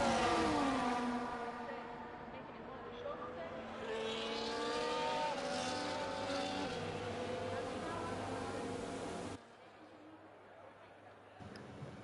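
Formula 1 race cars idle and rev on the starting grid at the Brazilian Grand Prix in the F1 24 game, engines droning steadily beneath a layer of talk before the sound drops away abruptly near the end.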